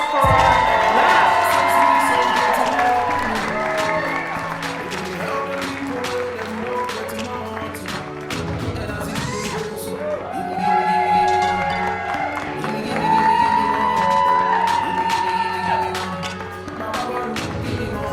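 A crowd at a community dance show cheers and applauds, a sustained wash of clapping with whoops rising and falling over eighteen seconds, while an amplified announcer's voice talks over it.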